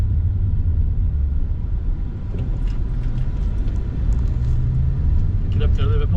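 A car rolls along Tireman Avenue in Detroit past brick homes, its engine and tyre rumble steady and close from inside the cabin throughout.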